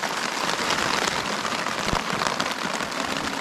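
Steady rain drums on a tarp stretched over a lakeside campsite during a storm, a dense, even patter close overhead with one brief louder tap, no voices.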